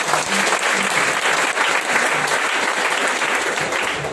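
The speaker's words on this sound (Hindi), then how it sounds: "एक बार सब लोग अपने दिल से ताली बजाएं।" Sustained crowd clapping at a MI LIFE leader meeting in Boisar: a loud, unbroken roar of many hands with no pause, and a few faint vocal sounds mixed in underneath.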